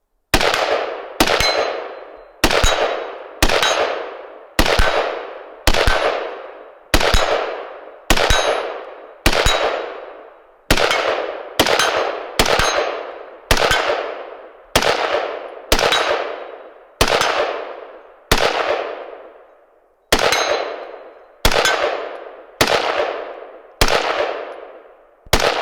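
A pistol fires a full magazine during a feed test, sounding as loud, sharp gunshots at a steady pace, each followed by a ringing decay, with brief longer gaps between some shots.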